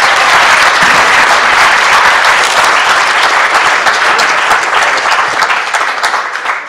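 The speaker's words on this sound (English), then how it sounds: "How about a warm round of applause again for Rick Rogers." A large audience at an arts celebration gives a warm round of applause, dense and loud from start to finish, slowly thinning toward the end.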